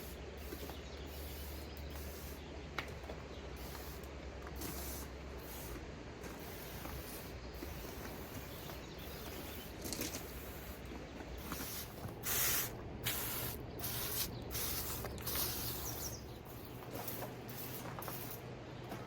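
A backpack sprayer spraying Roundup weed killer hisses in repeated bursts, pausing and restarting in an uneven rhythm, with a faint low rumble underneath.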